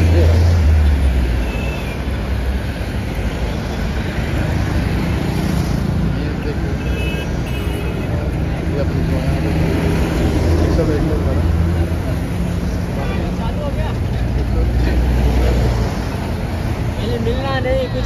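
Many motorcycles on an Independence Day group ride from Mumbai to Durshet make a steady, dense roar of engines and road noise for the whole stretch, with someone talking over it.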